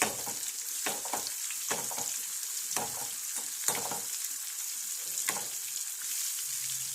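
Chilies frying in an oil-filled pan in a home kitchen make a steady, bright sizzle, with repeated clattering spikes as they are stirred and tossed, close and continuous throughout.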